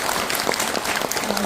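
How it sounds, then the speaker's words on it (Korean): Brief burst of audience applause at a political rally, a dense wash of clapping from a crowd, steady and fairly loud for just over a second. "박수 한번 주세요."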